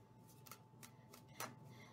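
A tarot deck is reshuffled in quick, soft bursts of card riffling and sliding, several short rustles close by and fairly quiet, with no talking.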